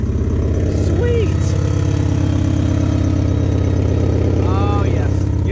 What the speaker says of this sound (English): I really need to fix that exhaust leak. It sounds awful